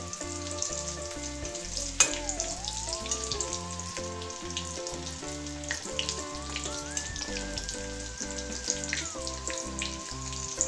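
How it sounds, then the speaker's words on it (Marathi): Stuffed cones made from leftover chapati deep-fry in hot oil, a steady bubbling sizzle that runs throughout beneath prominent background music. "आता चांगल्याला तळून घ्यायचं आहे"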